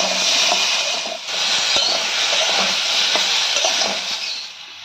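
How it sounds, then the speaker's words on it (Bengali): Eggplant and potato fry in a pan with turmeric and salt, giving a loud, steady sizzle close by. Occasional soft stirring knocks break through the constant hiss. "হলুদ আর লবণ দিয়ে ভালো করে মিশিয়ে নিয়ে আমরা আরেকটু এটাকে ভেজে নেব"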